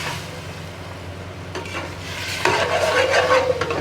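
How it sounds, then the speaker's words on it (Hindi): Half a kilo of minced meat keema frying in a pan with onion, garlic and ginger for keema macaroni, a steady sizzle with stirring scrapes that grows louder and busier near the end, no voices. "ये कीमा हमारा फ्राई हो रहा है"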